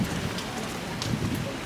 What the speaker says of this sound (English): The rain has settled down quite a bit, but it was pretty bad when we came in.